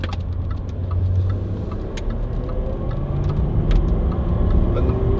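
A 2.5-ton Range Rover 4.4 TD V8 Westminster 4x4 on a test drive gives a steady low engine rumble and road noise inside the cabin, with occasional small clicks above it.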